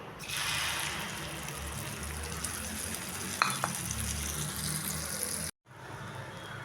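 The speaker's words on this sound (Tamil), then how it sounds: "அடுப்பில் தோசைக்கல்லை வச்சு ஹீட் ஆனதும் எண்ணெய் சேர்த்துக்கோங்க. இப்போ முட்டையை ஊற்றிடலாம்." Egg omelette mixture sizzling steadily in oil on a hot dosa pan, a continuous close frying hiss with light stirring and a brief scrape, cutting out abruptly near the end before the sizzle returns.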